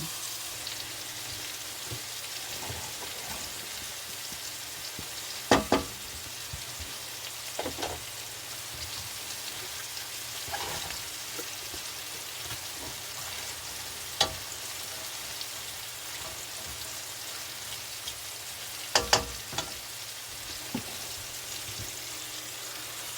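Pork jowl, cabbage and onions fry quietly in a pan, a soft steady sizzle with occasional scattered clicks and spatters.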